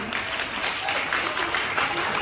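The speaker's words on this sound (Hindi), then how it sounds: "जोरदार तालियों से स्वागत करें" Audience applause welcoming an honoree onto the stage at a Durga festival committee felicitation event, a steady, dense clapping wash sustained throughout at moderate loudness with no talk over it.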